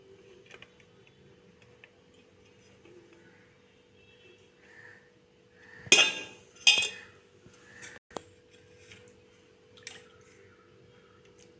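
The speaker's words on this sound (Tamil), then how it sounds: "சாப்பாடு தட்டில் எடுத்து வச்சுக்கலாம்." Rice being served from a pot onto an eating plate at home, a few soft scraping and clinking taps of a spoon against dishes, quiet and close, with a louder cluster of clatters in the middle.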